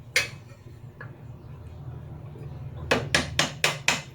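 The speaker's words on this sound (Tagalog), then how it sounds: "At meron kayong rubber mallet o kahit anong pampokpok. So pupukpukin nyo lang yan." A rubber mallet taps on the rear shock bolt of a vehicle to drive it out. A few isolated knocks are followed by a quick run of six sharp, evenly spaced strikes, close by over a low background hum.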